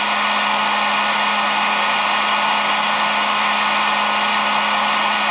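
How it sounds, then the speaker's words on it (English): A heat gun blows hot air onto a plastic fender eliminator for a Honda Navi, a steady, loud and even whooshing hiss with a constant tonal whine, unbroken for the whole stretch and with no voices. "Take your heat gun."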